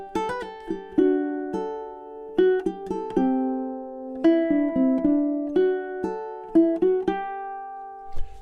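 Ukulele picks out a melody alone, crisp plucked single notes and small chord stabs at a moderate, slightly uneven pace, close and clear with no talking.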